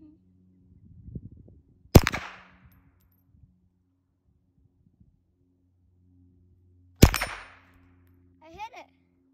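Two sharp gunshots ring out several seconds apart, each with a bright metallic clang of a struck steel target and a short decaying ring, loud and close, with faint murmured voices between.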